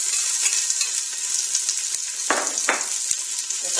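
Garlic, onion and celery fry in hot ghee for soup, giving a steady bright sizzle throughout, with a couple of brief louder hisses as the pan is stirred; no voices.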